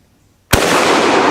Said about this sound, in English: I just cocked this rifle, and I'm going to shoot it.